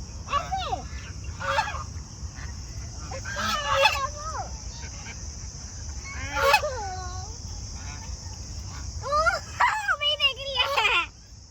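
Ducks honking close by outdoors in nature, repeated nasal calls in bursts over a steady outdoor background hum, with people talking at times.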